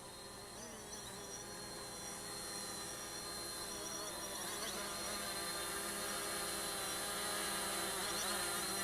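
A FIMI X8 SE drone comes in for a manual landing, its rotors giving a steady, close, buzzing whine with layered tonal harmonics that grows slightly louder throughout.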